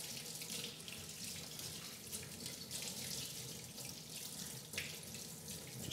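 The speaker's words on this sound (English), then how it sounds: "just go ahead and rinse it pretty well" Steady rush of tap water running into a sink while an Angel Juicer part is rinsed, continuous and close with slight splashing variation, no voices.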